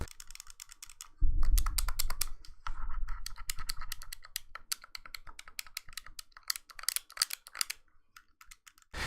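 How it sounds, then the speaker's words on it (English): Fingers press the face buttons of a Retroid Pocket Mini handheld gaming device, giving clacky, hollow clicks. They come in fast irregular flurries, close and fairly quiet, over a brief low rumble early on. "the face buttons are fairly clacky"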